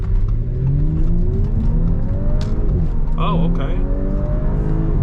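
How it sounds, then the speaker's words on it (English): A 2018 Audi S5 Sportback accelerates hard out of a corner on a road, its engine rumbling loud and close from inside the cabin, pitch rising and shifting, while a voice briefly speaks over it. "let's go ahead and take off onto this road here. Let's see how it handles if you kind of take off in a corner."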